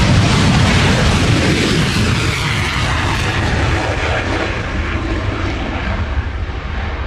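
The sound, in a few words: F-22 Raptor fighter jet flying display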